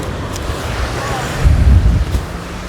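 Wind blowing at a seaside fishing match: steady rough buffeting on the microphone with low rumbling gusts, strongest in the middle, loud and close.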